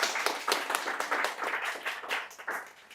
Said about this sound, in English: So again, huge applause for the first presentation.